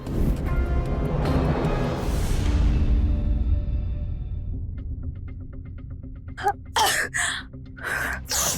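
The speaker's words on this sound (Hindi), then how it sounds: "बहुत छींके मार रही हो।" A woman sneezes repeatedly, with several sharp, forceful sneezes close together near the end. They follow a stretch of duller background sound.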